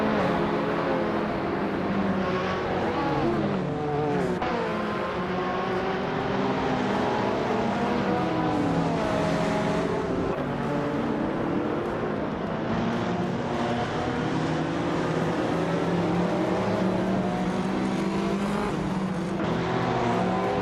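Race cars speeding off the start line, a loud, dense roar of several engines that keeps up without a break, with rising and falling engine pitch as the cars pull away.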